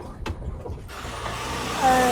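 A vehicle climbs uphill toward the listener on a rough, potholed mountain road in Nepal, its low engine rumble swelling steadily louder over about two seconds and ending in a thin, whining tone.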